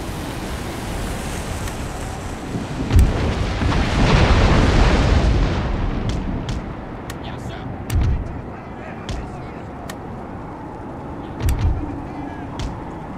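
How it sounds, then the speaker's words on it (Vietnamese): Heavy gunfire and artillery rumble through a siege battle in Napoleon: Total War, a dense roaring wash of booms swelling early on, then giving way to scattered sharp musket cracks and occasional heavy thuds, loud and continuous with no talk. "Ở đây sẽ xảy ra trận đấu súng quyết liệt."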